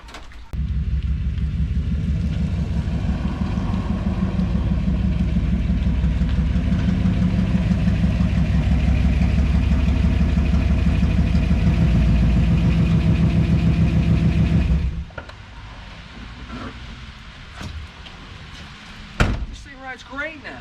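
A one-ton Ford Bronco truck engine on a test drive, a loud, steady low rumble for about fifteen seconds that then cuts off, leaving faint handling noises and a sharp knock near the end.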